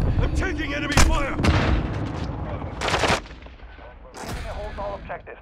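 Gunfire in Call of Duty: Modern Warfare II, loud bursts of shots and heavy booms crowding a short combat stretch, with faint game voices mixed in.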